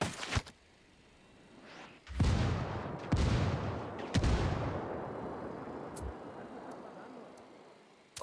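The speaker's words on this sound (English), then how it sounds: "Calling for indirect fire." Indirect artillery fire strikes in Ghost Recon Wildlands: after a brief distant thump, several heavy booming impacts roll in one after another, each with a long rumbling decay, followed by faint scattered pops.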